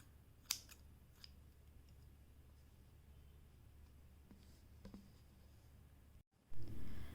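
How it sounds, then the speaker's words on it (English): Scissors snipping crochet yarn after finishing a granny rectangle row, with one sharp close cut followed by a couple of faint clicks in a quiet room, then a brief rustle. "And now you chain 1 and cut your yarn."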